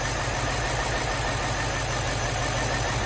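A 2005 BMW X5 with the 4.4L V8 at 156k runs at idle, a steady close, loud drone with constant low rumble and no talking.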